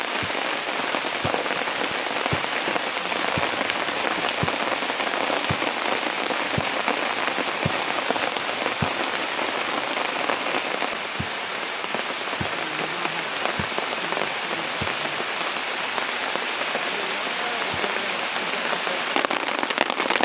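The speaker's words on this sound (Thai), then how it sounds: "ทางนี้น่าจะฝนตกเลย" Steady rain pours down, a dense continuous hiss with scattered louder drops tapping a surface nearby, no voices.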